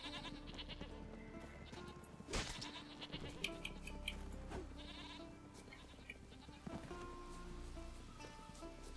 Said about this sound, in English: Look at all these goats.